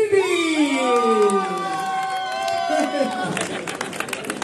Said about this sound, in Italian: Dobbiamo fare un grande applauso per i Democrossini!